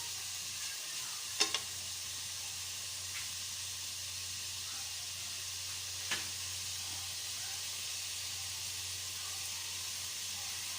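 Meat sautéing in a pan for pinapaitan gives a continuous, quiet sizzle with a couple of faint utensil clicks and no talking.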